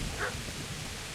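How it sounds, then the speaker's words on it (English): A dog barking in the medieval video game Kingdom Come: Deliverance, a single short bark early on, faint beneath steady ambient game noise. "There's a dog."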